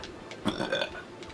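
A single short, throaty burp sounds close to the microphone, rising and falling within about a second, alone without talk.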